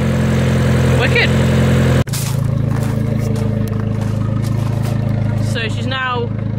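A Fiat Abarth with a sports catalytic converter idling loudly on a cold start, a steady close engine drone with a brief knock or cut near the start and faint voices over it.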